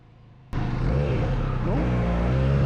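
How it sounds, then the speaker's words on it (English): A Harley-Davidson X500 motorcycle's exhaust bursts in after a brief quiet moment, then holds a loud, close, steady drone with rising and falling pitch sweeps as the bike is ridden and revved through the gears. "Exhaust sounds a little bit like a fart in a can"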